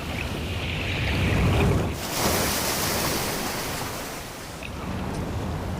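Ocean waves on a rocky coast break and wash back in a loud, continuous roar, swelling and easing with each surge under gusts of wind.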